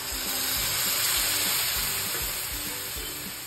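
Water poured onto fried masoor dal in a pan sends up a loud, steady hiss and sizzle that fills the whole few seconds, close and continuous.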